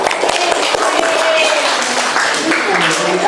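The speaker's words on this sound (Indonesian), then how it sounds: "Oke, tepuk tangan dulu." A class of students in an Islamic religious education lesson claps together loudly and close by, giving a dense patter of hand claps mixed with chatter and voices.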